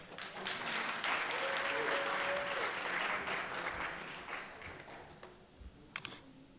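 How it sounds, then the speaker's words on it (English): Applause at a city summer youth luncheon: a crowd claps warmly for roughly four seconds, then it thins into scattered claps and quiet room noise with some faint voices. "And let's just give him another big round of applause."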